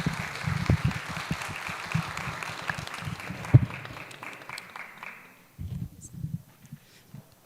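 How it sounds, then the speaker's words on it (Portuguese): Applause from an audience at the close of a talk, a few seconds of scattered clapping that thins out and fades to near silence with a few late claps. "Palmas para vocês."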